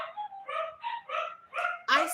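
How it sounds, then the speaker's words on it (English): Dogs bark in a quick series of about six yapping barks, close and fairly loud, the last one sharper and higher, with a voice nearby. "Please excuse these dogs."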